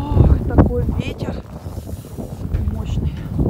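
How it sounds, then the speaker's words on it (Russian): Strong, bitterly cold wind outdoors in the Urals in winter roars and buffets the microphone in a deep, continuous rumble, with a voice briefly heard over it. "Ох, такой ветер"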